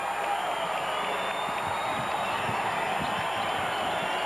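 A basketball arena crowd cheers at a Wolfpack and Rebels game, a steady, dense roar of voices that fills the space without letting up.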